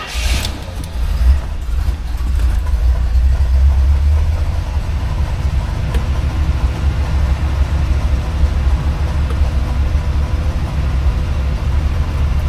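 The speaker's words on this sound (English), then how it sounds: "Let me fire her up." A 1975 Pontiac GrandVille with a 350 V8 rumbles steadily at idle after starting, a deep continuous engine drone filling the whole stretch close by, with no talking over it.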